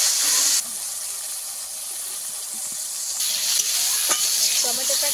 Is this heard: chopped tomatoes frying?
yes